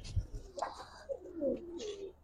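Giribaz pigeons give faint, low, warbling coos at close range, with a brief thump and scuffling noise at the start.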